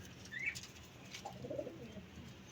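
A pigeon coos softly at a distance, a few faint low calls over quiet background hiss, with a brief higher chirp early on.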